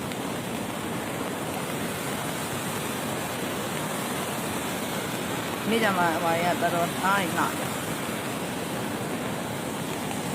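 Floodwater from the overflowing Kyaukmaungtaung dam rushes in a broad, continuous roar of churning waves, and a person talks briefly over it partway through.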